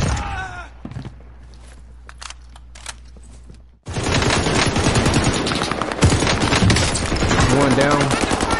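Gunfire in Call of Duty Warzone: scattered single shots first, then a loud sustained automatic burst that fills the second half, dense and close.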